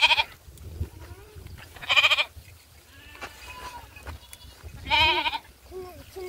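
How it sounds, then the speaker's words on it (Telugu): Goats in a village bleat loudly in three separate bursts, close by, with quieter bleats and rustling in between while they feed. "మేకలు తింటున్నాయి చూడండి"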